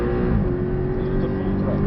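A Porsche 718 on the Portimão circuit at full throttle, its engine a steady, loud, close drone held for a couple of seconds.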